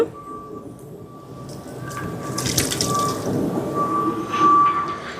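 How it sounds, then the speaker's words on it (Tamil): Water pours steadily into a cooking pot of rice for chicken biryani, a continuous splashing rush that grows louder toward the end, with a faint tone in the background. "தண்ணி சேர்க்கிறேன்."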